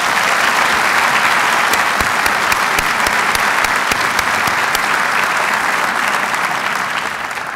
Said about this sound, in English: Please join me in giving my wife and your First Lady a hearty round of applause for all that she does.